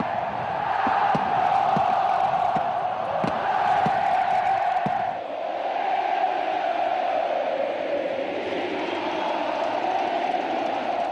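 A huge stadium crowd at a football match cheers and roars continuously, loud and sustained, with sharp shouts and claps breaking through the dense wall of voices.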